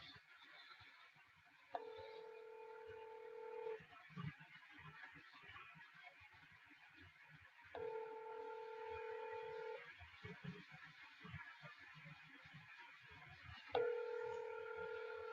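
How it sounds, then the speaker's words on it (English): An outgoing telephone call rings on the line, with three evenly spaced ringback tones, each about two seconds long and separated by longer gaps, fairly faint over a low background hiss. "I don't know if you can hear that ringing or not."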